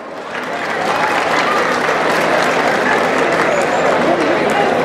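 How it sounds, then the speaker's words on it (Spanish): A crowd at a bull riding tournament in Tamazulapan applauds loudly and steadily, the clapping building quickly and holding at full strength while an announcer's voice carries through. "¡Venga el aplauso!"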